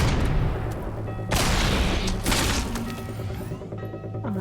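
Player's gun firing in the video game Fable 2, several sharp loud bursts and cracks over a dense, busy background of combat noise.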